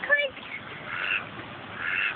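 Ducks quack in short bursts near a little water park, loudest at the very start, then fainter calls blended into a steady outdoor hiss while people talk.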